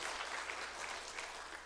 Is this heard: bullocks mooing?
no